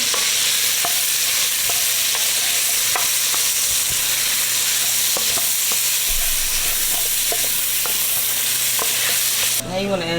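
Vegetables dropped into melted butter in a pan, frying with a loud, dense hiss and crackle that continues steadily from start to finish, with occasional stirring clatter, close up.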